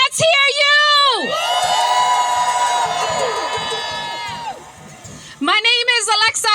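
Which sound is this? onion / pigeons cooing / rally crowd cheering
rally crowd cheering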